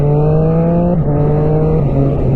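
A 2024 Triumph Street Triple 765RS motorcycle engine accelerates hard, its steady loud drone climbing in pitch and dipping briefly at gear changes, close and continuous with no talking.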